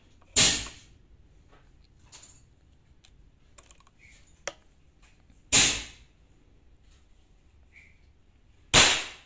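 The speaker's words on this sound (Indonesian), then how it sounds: "Jadi banyak suara tembakan." Three sharp bangs from a Bocap FX SJ toy cap gun, spaced several seconds apart, with small clicks and mechanical handling noises in between.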